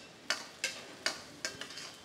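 Tomato curry, dhaba style, frying in a pan as a spatula scrapes through it, about five or six sharp stirring scrapes over a faint low sizzle, close and fairly quiet.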